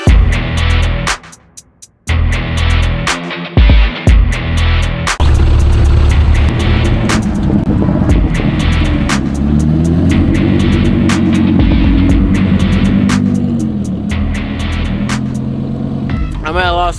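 A Chevrolet C8 Corvette idles at a car meet, its engine holding a loud, steady low rumble with a rough, lumpy pulse for most of the stretch after a few brief gaps and blips at the start.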